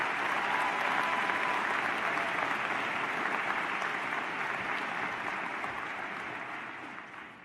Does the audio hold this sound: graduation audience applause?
yes